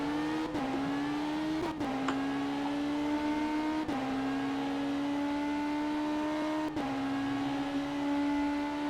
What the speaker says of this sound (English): if I hear the engine sounds of Pedro Lopez, they're way more aggressive than, for example, Baronek